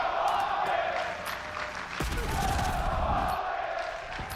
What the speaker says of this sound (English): And the crowd let them know they appreciate the domination.